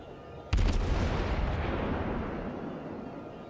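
A cruiser's naval guns fire in the World of Warships game, a sudden heavy boom from the Kuma's salvo followed by a long rumbling roll that slowly fades.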